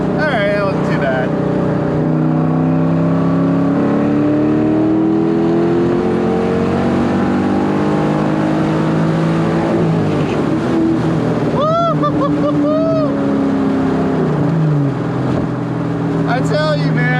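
A 1997 Ford Mustang SVT Cobra with a short-runner intake revs loudly up and down as it downshifts from fourth to third, its engine note sweeping and then sharply blipping close by.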